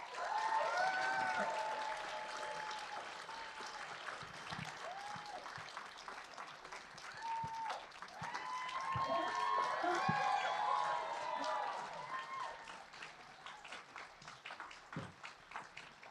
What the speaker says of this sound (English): let's give a big round of applause and warm welcome to Mr.